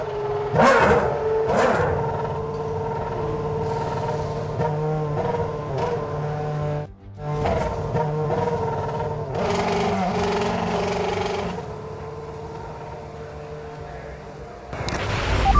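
A Formula 1 race car engine in the F1 26 video game at Abu Dhabi qualifying revs and surges loudly, rising and falling through gear changes with a brief cut near the middle, under a steady bed of game sound.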